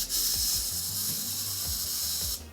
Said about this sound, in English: scarabs need a little encouragement to keep spinning on Imhotep's pecs and abs here.